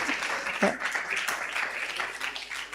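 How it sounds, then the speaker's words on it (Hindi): A lecture audience in Dubai claps steadily in a broad wash of applause, with some voices mixed in underneath. "एक बार जोरदार तालियां इस बच्चे के लिए बजाइए"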